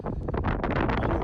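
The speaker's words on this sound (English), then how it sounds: "the wind has really picked up" Wind buffets the microphone at the top of a fire tower above tree level in light snow, a brief, gusty, rumbling roar with no talking.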